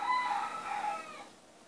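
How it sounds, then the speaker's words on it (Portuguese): A single rooster crows once, a strained, drawn-out call that is close and clear, then tails off into quiet. "É isso que fez demorar bastante os áudios desses galos malditos."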